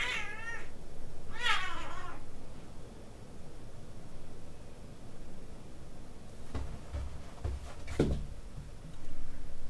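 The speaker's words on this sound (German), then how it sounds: "Ja, das war der Kater." A tomcat meows twice near the start, wavering cries rising and falling, followed by softer rustling and a few faint thumps over a steady low background hiss, with no talk.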